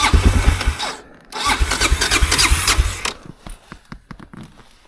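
A dual-sport motorcycle engine, a DR650 or 450EXC ridden on rocky trails, cranks twice in loud close bursts, each catching briefly before cutting out, with scattered clicks afterward.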